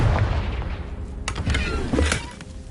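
A Confringo fire spell bursts in Hogwarts Legacy, a few sharp cracking blasts over a rumbling low backdrop, fairly close and moderately loud with no talking.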